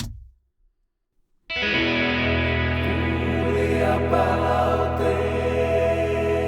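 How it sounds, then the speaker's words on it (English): After a moment of near silence, a loud, distorted electric guitar podcast jingle kicks in and rings out steadily with a thick, effects-heavy tone. "And I made a jingle for it and it sounds like this."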